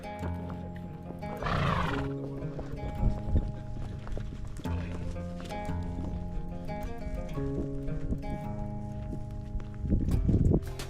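A horse at a pasture whinnies loudly twice among steady clip-clopping hooves, with music playing throughout.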